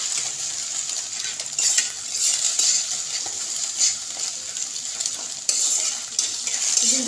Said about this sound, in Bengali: তো ডিমটা হালকা করে ভেজে নিব